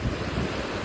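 Rough ocean surf stirred up by a cyclone, a steady broadband wash of waves with wind buffeting the microphone throughout, loud and continuous.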